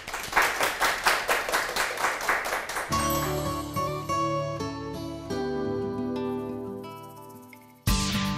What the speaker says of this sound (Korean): 청산뉴스 홍지연 작가님의 강연을 큰 박수로 청해보겠습니다.